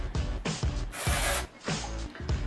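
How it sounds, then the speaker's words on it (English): Hair spray hisses from a can aimed around the bangs, sides and crown, in several short close bursts with one longer spray in the middle. "So I'm going to spray around my bangs and on the sides."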